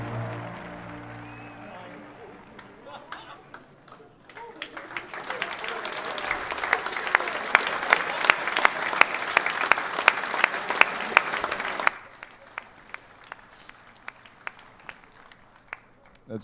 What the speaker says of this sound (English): J'imagine que ça applaudit dans la salle pour vrai aussi.